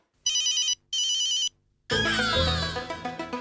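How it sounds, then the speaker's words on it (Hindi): Two short electronic ringtone bursts play in quick succession, then cut off as a louder burst of music and sound takes over. "पीड़ू का वीडियो कॉल"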